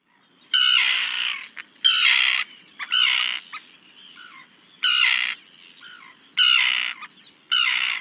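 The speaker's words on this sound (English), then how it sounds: "They open their mouths really wide when they make that sound, keeping you away usually. That's the common tern." Harsh, grating common tern squawks, six loud drawn-out calls spaced about a second apart, close and prominent with no speech.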